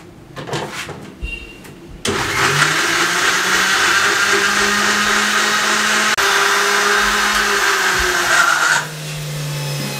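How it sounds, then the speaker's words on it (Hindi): Tamarind and plum (aloo bukhara) pulp churns in a juicer-blender jar. Brief clatter comes first, then the motor kicks in loudly and runs with a steady high whir for about seven seconds before winding down. "इन दोनों को मिक्स करके अच्छे तरीके से ग्राइंड करने लगे हैं"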